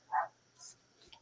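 A dog lets out one short, faint bark indoors during a crafting livestream, followed by softer scattered noises and quiet background voices.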